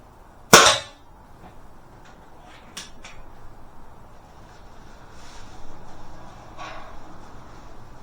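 Air pistol fired on a range, a Webley Tempest or Beeman P17: one sharp close crack near the start, then only faint clicks and handling sounds, with no voices.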